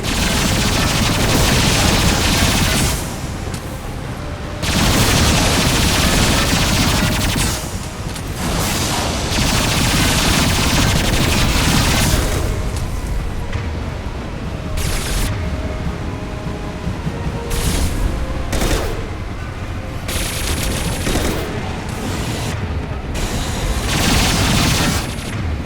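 Heavy gunfire and booming high-impact shots from the game Mass Effect 2 erupt in loud, dense bursts with brief gaps between volleys, sustained over a long stretch.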